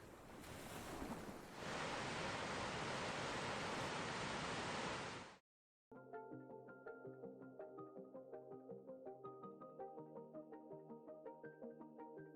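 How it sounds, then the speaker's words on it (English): A massive glacial waterfall in Iceland roars as a loud, continuous wash of crashing water for several seconds, then cuts abruptly to silence and gentle music. "an insane amount of glacial water crashing down"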